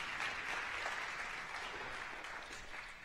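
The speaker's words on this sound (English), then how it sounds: "A round of applause for them, please." Fairly faint, even applause from an audience at a university parent and family orientation, a continuous patter of clapping that tapers slightly toward the end.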